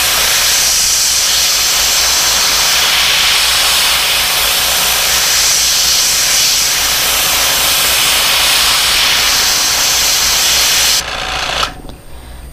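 An airbrush or spray gun paints a fishing lure through a stencil with a loud, steady hiss that continues almost without a break and cuts off near the end.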